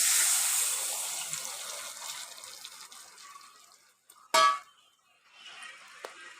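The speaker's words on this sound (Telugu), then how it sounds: "ఇప్పుడు కొంచెం చింతపండు రసం చింతపండు రసాన్ని పోసుకోవాలి" Tamarind juice poured into a pan of fried bitter gourd with ginger and turmeric, a soft liquid trickle fading out, then a short louder splash and a faint clink afterward.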